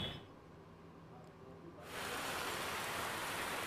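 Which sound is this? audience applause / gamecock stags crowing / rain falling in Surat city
rain falling in Surat city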